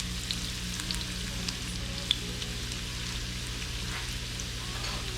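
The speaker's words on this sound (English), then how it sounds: "So you're gonna wanna throw in your julienned ginger to the canola oil. Give that a few minutes and let it brown nicely." Julienned ginger frying in hot canola oil in a non-stick pan, a soft, steady crackling sizzle with occasional small pops, fairly quiet and close, with no talking.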